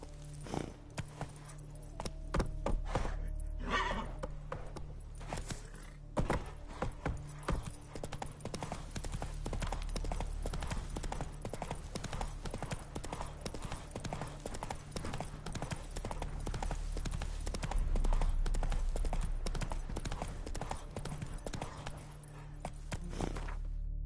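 Roach the horse walking in The Witcher 3, hooves clip-clopping in a steady continuous rhythm over a low ambient game background, with brief human voice fragments.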